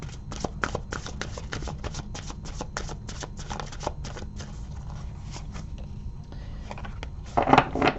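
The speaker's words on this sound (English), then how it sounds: "I'm also going to pull one of the Faeries Oracle cards for you." Faeries Oracle cards being shuffled by hand, a rapid run of papery flicks and riffles that carries on steadily throughout and ends in a slightly louder burst of card handling.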